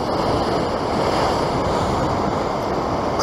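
Ocean surf washes steadily onto the shore during a fishing outing at the coast, a loud continuous broadband roar with wind buffeting the microphone and no breaks.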